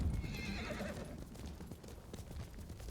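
A horse in a video game whinnies near the start, then hooves clip-clop steadily over a busy game soundscape.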